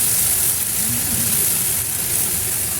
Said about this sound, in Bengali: এই একই প্যানে আবার একটু তেল দিয়ে আগে থেকে তৈরি করা মশলাটা ঢেলে দেব।